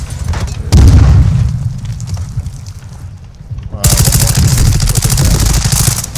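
Heavy gunfire and booming blasts in Call of Duty Modern Warfare 2 DMZ mode, with loud rapid automatic bursts in two main stretches and a quieter gap between, while players talk over the fighting.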